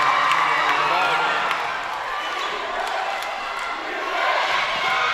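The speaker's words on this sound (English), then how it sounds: "This crowd is roaring." Roaring high school basketball crowd in a packed gym, a loud, sustained wall of cheering and yelling with sneaker squeaks, heard close and continuous.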